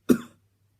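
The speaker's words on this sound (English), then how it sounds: "summon up a hacking cough" A single short hacking cough, close and sharp, bursting out at once and fading within a fraction of a second into silence.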